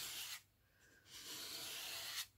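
A glue spreader scrapes watered-down glue across journal paper in a few faint, soft rasping strokes separated by short pauses.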